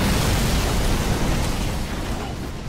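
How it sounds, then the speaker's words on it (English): Explosion of a Covenant sniper tower in Halo 3: a loud, sustained broadband roar and rumble lasting the whole moment, slowly easing off toward the end, with no talk over it. "you can blow up the Covenant sniper towers as well"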